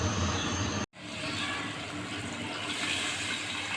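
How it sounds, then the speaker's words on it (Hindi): Water pours steadily into a cooking pot of potato and egg curry in a rushing stream, briefly interrupted near the start, then continuing in a constant splashing flow. "ये 1 गिलास पानी डाल दिया है।"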